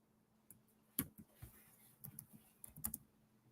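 Intermittent keystrokes on a computer keyboard, a few sharp clicks spaced apart, then a short flurry of typing near the end, over quiet room tone.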